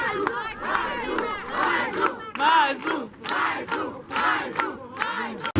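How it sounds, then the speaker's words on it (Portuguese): A circle of tourists around a street music performance in Cabo Frio, Rio de Janeiro, cheering and shouting together in loud, rising bursts of voices. "Turistas formam uma roda em volta da apresentação musical, aplaudem e pedem mais uma música."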